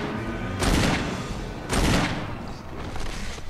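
Video game gunfire from a powerful gun in Resident Evil, fired in two heavy booming bursts with a fainter third trailing off, loud and close over a constant game background rumble.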